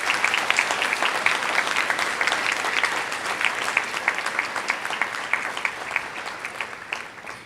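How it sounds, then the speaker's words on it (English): Sustained audience applause at a school medal assembly, a thick, even wash of many hands clapping at steady loudness throughout, with no voices rising above it. "I think they deserve a round of applause."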